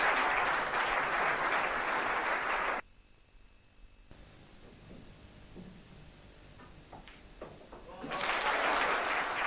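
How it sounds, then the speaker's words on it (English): Snooker crowd applauding a fine shot in the 1993 WEPF men's final, a loud sustained burst of clapping that breaks off, leaving a quiet hall with faint murmurs, then swells again into full applause near the end. "the crowd very appreciative of a fine out from the break there by Nigel Davis"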